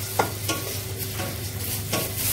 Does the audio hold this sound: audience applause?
no